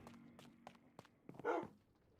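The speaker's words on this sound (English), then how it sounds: "Hear the dog." A dog in the Minecraft video game, giving a few short barks at moderate distance among scattered footstep-like taps, with one louder bark near the end.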